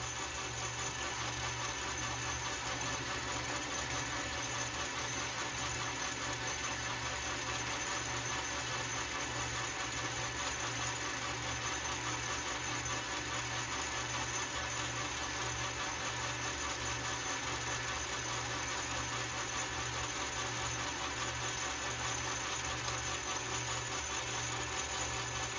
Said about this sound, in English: The gear set on this lathe is a little noisy